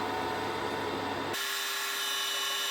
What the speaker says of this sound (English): So we pop the bar stock into the lathe and then